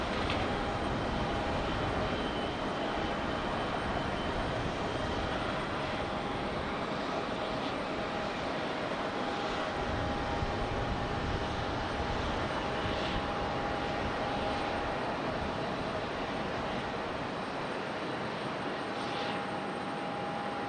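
A Frontier airliner pushes back from the hard stand at Raleigh-Durham International Airport, a sustained engine drone with a thin steady whine and faint airport background, continuous and moderately distant.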